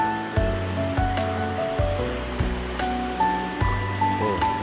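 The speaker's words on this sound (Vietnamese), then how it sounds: "Cái suối này mùa nước lên là nó rất là dữ, chảy rất là lớn." A swollen mountain stream rushes loudly beneath a collapsed makeshift footbridge, continuous turbulent water noise with a faint musical bed underneath and no talking.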